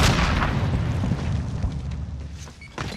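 An explosive charge blasts in a Warzone quads match, a loud broadband boom at the start that rumbles and decays over a few seconds, with a second thump near the end amid game noise.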